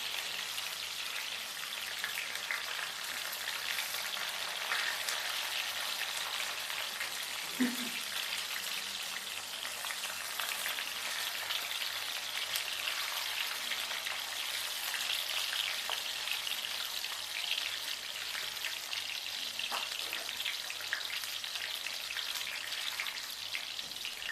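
Sweet corn kernels fry in a pan with a steady, even sizzle for the whole stretch, broken by a few faint pops and light knocks near the middle and toward the end.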